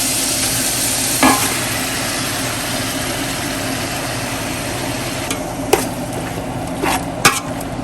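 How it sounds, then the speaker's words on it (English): Pork belly and chopped kimchi frying in a pan, with a steady close sizzle, a low hum underneath and a few sharp clinks of a utensil against the pan. "so now we're just going to cook this pork belly down a little bit"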